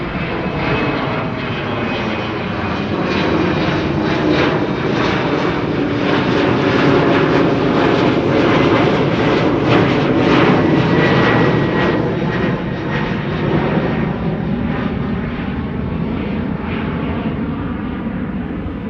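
An Embraer jet airliner bound for Düsseldorf at Amsterdam Schiphol, its engines giving a loud, steady roar that swells to a peak midway and then eases slightly, with no talking.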